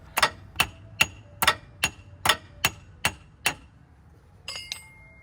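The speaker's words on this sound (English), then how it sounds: "I'm gonna have to hit it with the hammer" A hammer strikes a jammed CV axle on a 2014 Ford Fusion nine times in a steady rhythm, sharp close clanks, followed by a couple of lighter metallic clinks.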